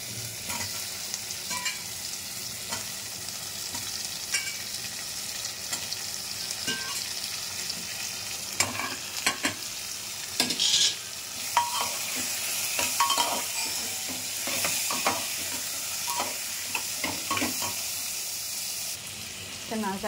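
Lau dal with cumin is stirred in a pan, giving irregular scraping and clinking spoon strokes over a soft, steady sizzle. The sound is close and moderately loud, with occasional louder taps.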